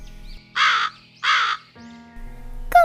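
Two loud, harsh crow caws follow one another about a second apart, close and clear, in an otherwise quiet setting, with a faint tonal hum and a brief sharp sound near the end.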